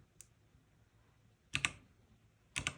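A budget Temu mechanical keyboard gives a single quick key click, then two pairs of sharp, close clacks about a second apart over a quiet background, with no talking.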